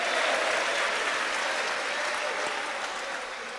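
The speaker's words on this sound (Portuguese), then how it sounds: "aplaude e dá glória" Steady, enthusiastic applause from a church congregation, many hands clapping at once in a dense, continuous wash that fades slightly toward the end.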